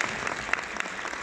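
Audience applause at a film premiere screening in Orléans, a dense, steady wash of many hands clapping close by, without talk.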